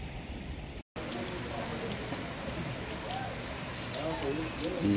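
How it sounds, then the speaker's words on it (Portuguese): Rain falling in a cliff-walled valley near the Véu de Noiva waterfall in Chapada dos Guimarães, a steady close hiss of drops with faint scattered patters, while people talk over it. "Agora tá parando um pouco, mas tem bastante chuva"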